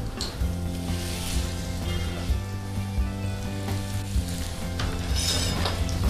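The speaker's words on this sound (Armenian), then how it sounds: "Եվ տապակում ենք կտրատած հացի կտորները" Pieces of cut bread fry in a pan, giving a steady, dense crackling sizzle that holds at an even level throughout with no talking.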